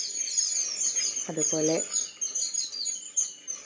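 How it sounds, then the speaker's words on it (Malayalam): Several kinds of birds chirp and tweet behind a house in a busy, layered outdoor chorus. A person briefly speaks over it. "പലതരം പക്ഷികളും വന്നിട്ടുണ്ട്."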